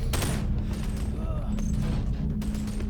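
Automated turret firing in the VR game Boneworks, a dense crackle of rapid shots over a steady low mechanical hum, close and fairly loud throughout.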